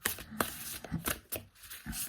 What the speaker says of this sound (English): And then I always cut the deck after I finish shuffling.